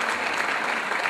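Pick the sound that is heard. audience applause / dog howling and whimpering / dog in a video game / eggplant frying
audience applause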